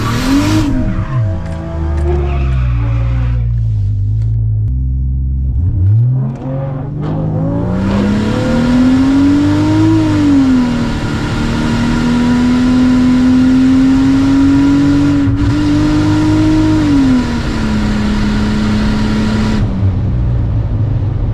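A Chevrolet Trailblazer with an Atlas 4200 engine launches down a drag strip, with a loud engine climbing through the revs and dipping at gear shifts. It then holds a long, steady high-rpm drone before cutting off.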